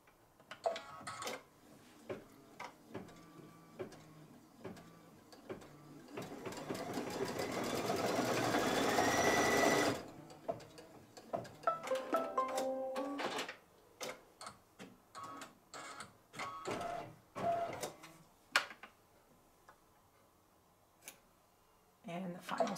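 An embroidery sewing machine stitches a satin blanket stitch on a quilt appliqué, with bursts of rapid needle ticking that swell into a continuous whirring run midway, then return to short stop-start stitching.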